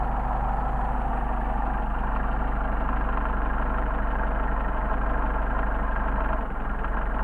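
A Mercedes 190SL engine runs steadily with its Solex carburettor being adjusted, a constant close idle hum that dips slightly near the end, with no talking.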